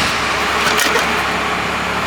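A 2nd gen RAM truck with a newly replaced steering box drives on a road test, heard as a steady, muffled cabin rumble of engine and road noise without talking.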